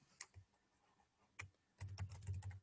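Keys clatter on a computer keyboard as someone types a search query, a few isolated keystrokes followed by a quick burst of close, crisp typing.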